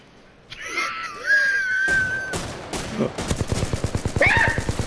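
Rapid bursts of automatic gunfire rattle in Titanfall 2 multiplayer, building into sustained rapid shots near the end, mixed with in-game effects and a brief voice-like wail.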